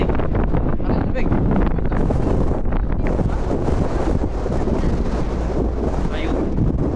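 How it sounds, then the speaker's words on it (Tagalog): Strong wind gusts buffet the face and microphone in a canyon in Kazakhstan, producing a loud, continuous low roar and rumbling thumps throughout, with a voice faintly mixed under it. "pag dumadabi yung hangin sa ano mo, sa mukha mo, parang sinasampal"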